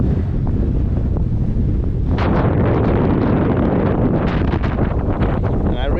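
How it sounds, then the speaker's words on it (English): Strong gusty wind at sea around 20 knots, buffeting the microphone aboard a sailboat with a steady loud roar that swells into a harder gust after a couple of seconds, with wave wash underneath. "it's only 20 knots, 21, but you can really feel the gust sometimes going up"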